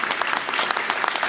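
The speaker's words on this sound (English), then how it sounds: "So please give them a round of applause as well." Brief audience applause at a town meeting in Angel Fire, New Mexico, honoring public school workers, a close burst of many hands clapping at a steady, moderate level.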